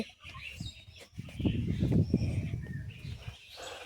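A chicken clucks and calls amid outdoor bird chatter, moderately close, with a busy stretch of vocalizing in the middle.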